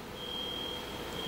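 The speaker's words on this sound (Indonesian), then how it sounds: "Ini bunyi alarm atau apa ya?" Inside a church, an alarm gives a single steady high-pitched electronic tone that holds for about a second, faint beneath a quiet room hum.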